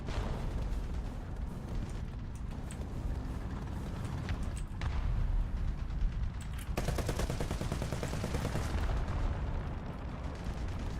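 Thrown bombs burst in a video game amid a constant din of gunfire and blasts, with sharp explosive pops standing out near the middle and later, loud and busy from start to finish.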